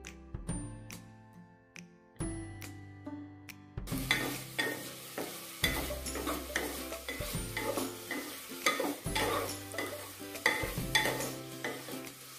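Vegetables sautéing in a pan for vegetable pulao, a soft continuous sizzle broken by repeated scraping stirs of a spoon against the pan at an even pace, fairly quiet and close.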